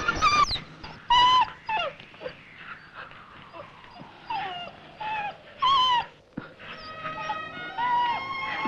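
A dog whimpers and yelps in a series of high, wavering cries, some sliding down in pitch, with short pauses between them, fairly close.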